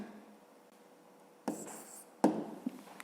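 A pen writes by hand in a quiet room, a soft steady scratch followed by two louder bursts of scribbling near the end, close and unaccompanied by talk.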